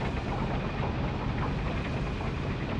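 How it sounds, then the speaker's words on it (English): Machines starting up in the Syberia video game, a dense steady low mechanical rumble with a faint high whine, continuous and even with no talking. "I can hear the machines have started."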